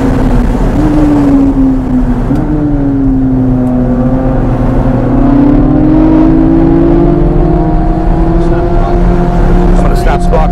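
A Chevrolet Corvette C8 Z06 in sport mode, heard from inside at NCM Motorsports Park, accelerates hard with a loud, steady engine drone that climbs in pitch through the gears.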